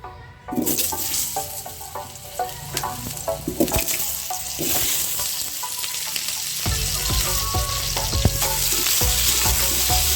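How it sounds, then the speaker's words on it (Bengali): Potatoes fry with turmeric in hot oil in a pan for a chicken kosha, a loud, continuous sizzle with intermittent stirring clatter throughout. "একটু হলুদ দিচ্ছি, আলু ভাজছি, আর অল্প একটু নুন দিয়ে ভেজে নেব"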